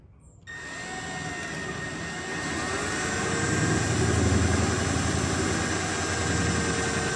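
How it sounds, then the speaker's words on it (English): A power drill bores holes into a new fiberglass Meyers Manx VW dune buggy body, a steady close whine that starts abruptly and holds loud and continuous. "why are you drilling all these holes into your brand new Dune Buggy body?"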